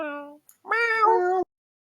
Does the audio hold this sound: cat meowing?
yes